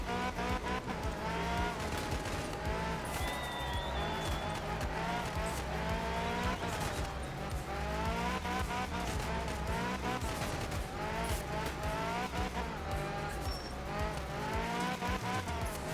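Mitsubishi Evo rally car in the video game Art of Rally, its engine droning steadily with shifting revs and occasional tire noise, constant and fairly loud throughout with no speech.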